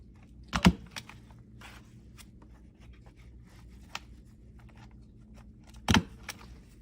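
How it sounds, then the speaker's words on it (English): A stapler drives staples through folded paper on a paper-doll dress collage craft: two sharp, close clicks about five seconds apart, with quiet handling in between and no talking. "I'm going to staple it again."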